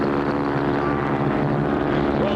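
A propeller plane engine roars at full throttle in a 1959 bush-pilot cartoon, a loud steady droning hum with layered buzzing tones that continues without a break throughout.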